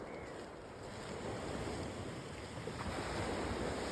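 Ocean surf washing onto the Atlantic shore at sunrise, a steady broadband rush of breaking waves with some wind buffeting the microphone, continuous and fairly close throughout.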